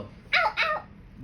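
Small dog barking twice in quick succession, close and fairly loud, two short sharp yaps over a quiet room background with no talk.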